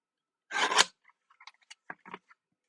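Scissors trim paper scraps: a loud close snip first, then several quieter, scattered cuts and paper rustles for a mini album craft project, with no talk.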